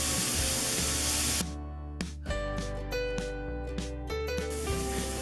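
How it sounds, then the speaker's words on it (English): Leeks sautéing in a pan for potato and leek soup, a loud steady sizzling hiss that drops after about a second and a half into a softer crackle with faint clinks. "now we're just going to saute them until they're nice and soft and smell delicious"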